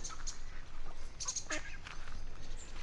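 In a park, a duck gives a few faint, scattered quacks over a steady outdoor background hum.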